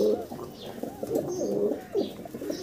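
Several pigeons coo in soft, repeated throaty bursts at close range, a steady low burble with brief pauses, heard alone without talk.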